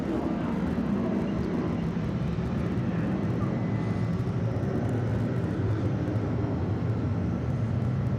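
A Delta airliner at Atlanta Hartsfield-Jackson International Airport makes a continuous broad jet roar, steady and fairly loud, holding evenly without a break.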